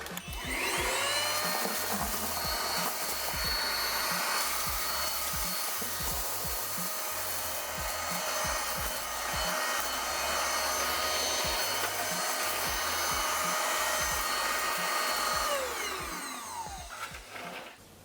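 An ILIFE H55 cordless wet vacuum cleaner runs on tiles over cereal flakes, rice and flour, its loud steady motor whine holding throughout, with rubbing and rattling strokes as it is pushed back and forth before it winds down.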